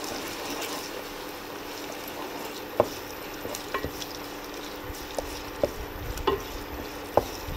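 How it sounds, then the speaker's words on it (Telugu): Ginger paste being stirred into a crab curry in a pan, with a soft sizzle throughout and occasional sharp scrapes and taps of a spoon against the pan, close and moderately quiet. "ఇందులో 2 చెంచాల అల్లం పేస్ట్, వేసిన తర్వాత మంచిగా కలుపుకోవాలి."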